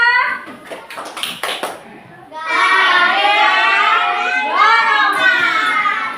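Children in a class on types of forces perform a tepuk gaya clapping chant. Several quick claps open it, then young voices chant loudly together in a steady rhythm for several seconds.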